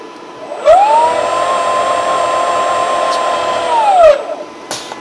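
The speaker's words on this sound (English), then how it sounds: "And this is the motor." Electric drive motor of a hydrogen fuel cell Urban Concept car for the Shell Eco-Marathon spins up with a rising whine, holds a steady high-pitched hum for about three seconds, then winds down, close and fairly loud.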